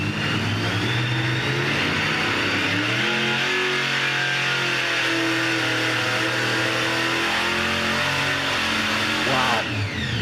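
A car with a 3-speed transmission revs and pulls away, its engine note rising through a few long climbing sweeps, loud and sustained from start to finish.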